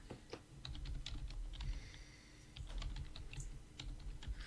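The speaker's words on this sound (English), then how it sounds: "I'm typing in the chat." Fingers type on a computer keyboard in a quiet room, a quick, irregular run of soft key clicks heard close and faint, with no talking.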